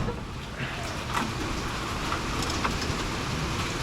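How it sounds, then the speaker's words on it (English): Steady rain falls outdoors during a rainy season, a constant broadband hiss with faint scattered drops, heard at a fairly even level with no talking. "it's raining again"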